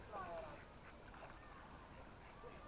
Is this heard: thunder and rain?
no